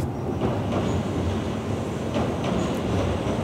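A train crossing a bridge over the Shimizu River rumbles steadily at a middle distance, with faint rhythmic wheel clatter and a broadband roar, no talk.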